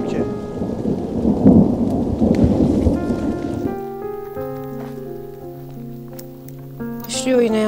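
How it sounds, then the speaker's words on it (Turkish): Heavy rain drums steadily on a beach with a thunder rumble early on, then the downpour fades under a sustained musical tone layer. "Başlıyor yine yağmur."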